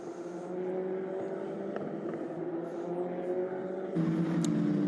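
A Formula Regional race car drives the Barcelona circuit, its engine a steady, sustained droning whine at moderate distance that grows louder and shifts pitch near the end, with no voices.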